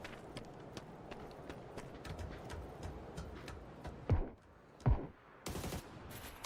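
Gunfire in a competitive tournament video game match: a steady crackle of small shots, then a few sharper isolated reports and a short burst near the end.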